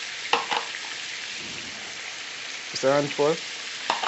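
Spring onion and peppers fry in a pot for a chicken stew, giving a steady, close sizzling hiss with small crackles, while people talk briefly over it.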